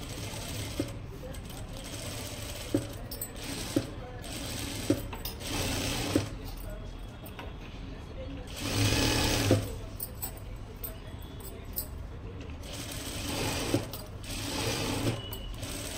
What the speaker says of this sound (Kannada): ಈಗ ನಾನು ಹಾಗೇನೆ ಸುತ್ತ ಒಂದು ಡಮ್ಮಿ ಸ್ಟಿಚ್ ಹಾಕ್ಕೊಂತೀನಿ